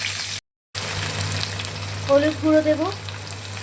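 Bitter gourd frying in hot oil for a spicy oil-based karela dish, a steady sizzle running throughout with a brief dropout, while a voice speaks briefly near the end.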